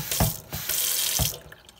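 Water gushes from a tap into a sink, loud and steady with a few brief surges, then cuts off near the end, leaving quiet.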